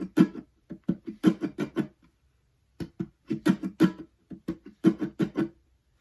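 Percussive guitar line from a live looping arrangement of a song, with body slaps and muted string strums in a quick, syncopated groove broken by short pauses, close and fairly loud, no voices.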